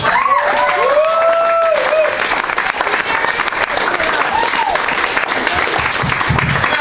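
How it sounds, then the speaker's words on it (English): Loud, full applause with some cheering from a comedy show audience for a headlining comedian, steady throughout, with a voice briefly calling out over the clapping early on. "Please give a big round of applause for Peter"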